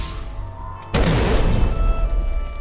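A sudden explosion in Ori and the Blind Forest, a sharp loud boom that bursts out of a quiet game ambience and trails into a dense, rumbling decay, with no talk.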